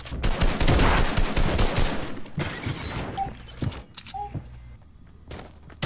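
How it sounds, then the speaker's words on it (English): Rapid bursts of gunfire in a shooter video game, loud and dense volleys of shots over the first few seconds, then sparser single shots and clicks, faint talk underneath. "Shit, we're being shot at."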